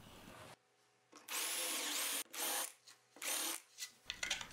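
A power drill whines through several short bursts while boring holes into a wooden sharpening jig base, close and loud, with brief stops between each run and no talking.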